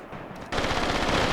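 A machine gun in Graviteam Tactics opens up abruptly after a quiet half-second, then rattles on in a fast, loud, steady burst.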